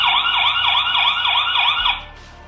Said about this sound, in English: You can choose from this siren